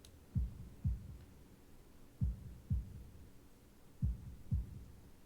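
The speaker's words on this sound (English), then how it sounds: "holding my breath in an attempt to hear my heartbeat" Heartbeat sound effect from the visual novel Katawa Shoujo: three paired lub-dub thumps, low and soft, evenly spaced and heard alone with no voices.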